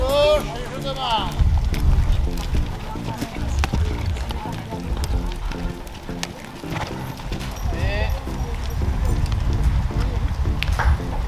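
Horse cantering in a riding arena, with rhythmic hoofbeats thudding through the clip alongside breathing and tack noise, while a rider talks over it.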